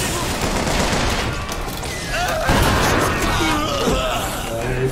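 Shotgun blasts in the first-person shooter Bioshock Infinite amid a dense, continuous barrage of game gunfire, with a strong burst just past halfway and loud action clatter throughout.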